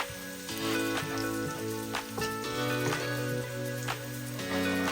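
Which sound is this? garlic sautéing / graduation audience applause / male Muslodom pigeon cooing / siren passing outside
garlic sautéing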